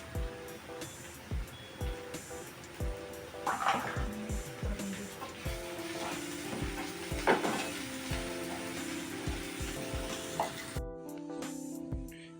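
A paste of green chili, ginger and coriander fries in hot oil with softened onion for a Maharashtrian prawn masala, giving a steady sizzle broken by scrapes and soft knocks of a spoon in the pan.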